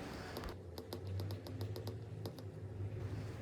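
Quick keystrokes tapped out on a phone or computer keyboard while writing a message, a short burst of about a dozen crisp clicks in uneven clusters, close and distinct over a low steady hum in a quiet room.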